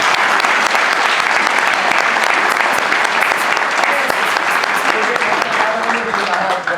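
Audience in a school band room applauding a student, a dense, steady burst of clapping that lasts throughout and tapers slightly at the end.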